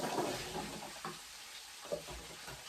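Meat browns in a hot pan with a steady sizzling hiss, a few louder pops and crackles, while ingredients are stirred now and then; no one speaks.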